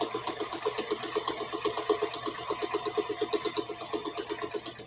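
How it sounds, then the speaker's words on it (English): A sewing machine stitches through several layers of fabric with pins, chugging in a steady fast rhythm of evenly spaced mechanical thumps, close and moderately loud with no talking. "You can hear him chug chug chug sewing through all these."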